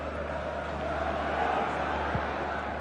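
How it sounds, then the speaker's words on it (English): Crowd noise fills the stands before a Kenya vs Gabon football match, a steady, distant roar of many voices with no distinct chants or cheers standing out. "With the crowd still building up"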